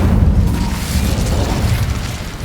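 Incendio fire spell cast in Hogwarts Legacy: a steady, loud roaring whoosh of flame with a deep rumbling low end, sustained evenly throughout with no talking.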